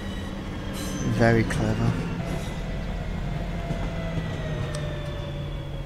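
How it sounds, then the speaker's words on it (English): Train passing in the Train Sim World 3 game on the Birmingham Cross City Line, a steady rolling rumble with a brief louder burst of clattering near the start, and a voice speaking briefly over it. "Here comes a train."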